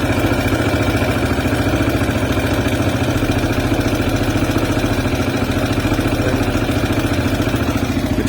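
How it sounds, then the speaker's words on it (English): A CSC RX3 motorcycle engine idles steadily at close range, a continuous rapid mechanical clatter and low hum holding an even rhythm throughout, with no talking. "here's where your idle RPMs are at."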